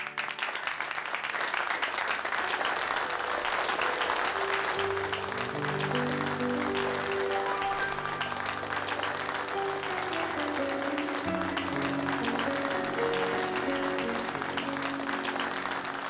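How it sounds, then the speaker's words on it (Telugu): An audience on a TV-serial stage claps steadily in sustained applause to welcome a performer, while music rises and holds beneath the clapping. "సో ప్లీజ్ చప్పట్లతో వెల్కమ్ చెప్పండి."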